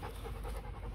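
A large dog pants rapidly and close by in a brief burst of breathy, rhythmic huffs while playing with puppies.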